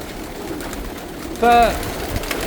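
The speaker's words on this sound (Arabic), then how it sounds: "ادري ازعاج الحمام خلينا نطلع عنه بعيد شويه" Homing pigeons in a crowded loft give a single short, clear coo that stands out close by against a steady background murmur of the flock.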